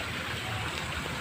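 A small creek flows beside a narrow cement path, its water rushing in a steady broadband wash heard up close and fairly quiet, with no voices.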